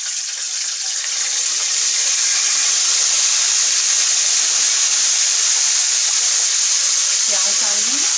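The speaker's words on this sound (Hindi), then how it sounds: "थोड़ा थोड़ा पानी शामिल करेंगे।" Water poured into a cooking pot of hot oil with fenugreek seeds, nigella and white cumin sets off a loud, steady hiss and sizzle that holds throughout, with a brief voice near the end.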